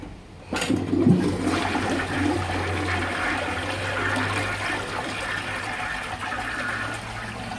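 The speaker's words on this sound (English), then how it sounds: "let's do this flush" A rare 1957 blue Universal Rundle toilet flushes after a sharp onset, a steady rushing of draining and refilling water that stays loud and close for several seconds with no talking.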